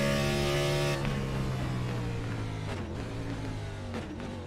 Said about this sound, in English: just by the sound of the engine there